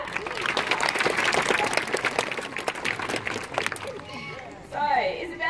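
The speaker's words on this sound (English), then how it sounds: "Let's give Isabella a little clap." A crowd claps for a young volunteer at a bird show at Healesville Sanctuary in Australia, steady dense applause for about four seconds that fades as a voice begins speaking.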